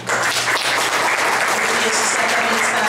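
An audience applauds at the end of an academic talk, sustained and dense clapping for the full stretch, loud and close, with some voices mixed in.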